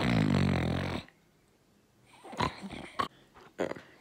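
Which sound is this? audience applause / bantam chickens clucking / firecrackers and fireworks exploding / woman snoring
woman snoring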